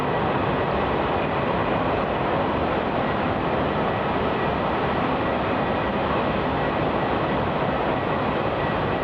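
A jet airliner arriving at Melbourne Airport, a broad, steady engine roar that holds at constant loudness for the whole stretch, with no voices over it.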